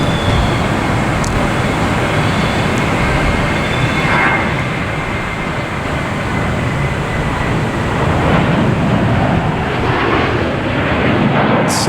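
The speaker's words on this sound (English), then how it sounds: "There we have JetBlue taking off to Fort Lauderdale," A JetBlue Airbus A320 jet takes off from Boston Logan Airport, a steady, loud broadband roar that holds evenly throughout, with no voices over it.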